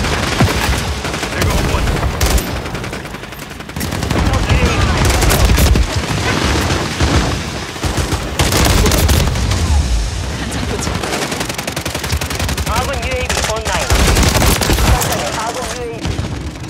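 Rapid automatic gunfire and bursts in Call of Duty Modern Warfare III, loud and nearly continuous with heavy booms, with faint voices now and then beneath the shooting.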